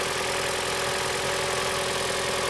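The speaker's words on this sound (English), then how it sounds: "Should be a normally aspirated inline 4-cylinder engine." A 2014 Mitsubishi Lancer ES sedan's 2.0-liter naturally aspirated inline four-cylinder engine idling steadily nearby under an open hood, a continuous mid-pitched hum with a faint rhythmic pulse underneath.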